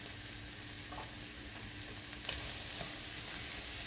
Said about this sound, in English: I'll go ahead and add another couple of pats of butter. to help with the browning.